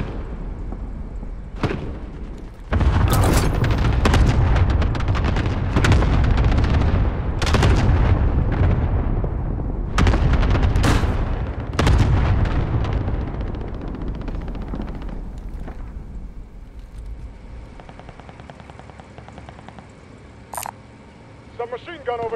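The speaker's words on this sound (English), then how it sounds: "Allied cluster strike arriving." Cluster strike explosions in Call of Duty Modern Warfare, a string of heavy booming blasts and gunfire rolling through the middle of the clip, tapering into quieter rumble with game voice lines heard at times.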